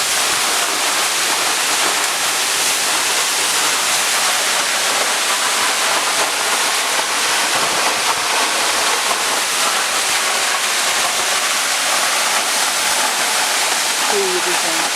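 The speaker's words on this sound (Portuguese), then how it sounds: "É maravilhosa essa cachoeira." A waterfall in Tamarana, Paraná, roars as a steady, loud broadband rush of falling water that fills the whole scene without pause, with a brief voice at the very end.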